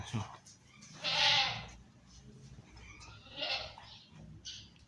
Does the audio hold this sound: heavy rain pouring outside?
no